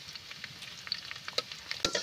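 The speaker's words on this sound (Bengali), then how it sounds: "রসুনটা এইভাবে আমি নেড়ে চেড়ে ভালো করে লাল লাল করে ভেজে নেব।" Garlic fries in hot oil while being stirred, producing a quiet, crackling sizzle with scattered spatters and a few sharper scrapes of the utensil toward the end, no voices.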